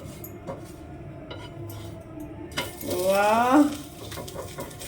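Refined oil hits a dosa on a hot pan with a short, swelling sizzle and a brief squeaky whine, set among light clinks of utensils.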